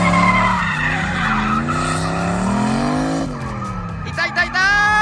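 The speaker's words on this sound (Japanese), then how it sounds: "エンジンは V8 のレクサス。" A V8 Lexus drifting, with sustained, loud tire squeal and skidding over a revving engine, the pitch sliding and wavering before a brief dip and a return of screeching tires.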